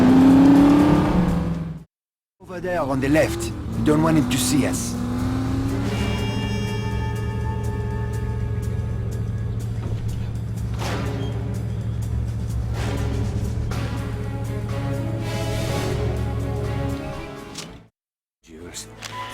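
In The Saboteur video game, a car drives and accelerates with a steady engine drone and rising revs, running beneath spoken dialogue and game sounds, with short silent gaps at the start and end.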